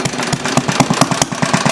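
A small Briggs & Stratton engine fitted with a glass cylinder head runs steadily, its rapid even chugging pulses loud and close with a bright mechanical rattle on top.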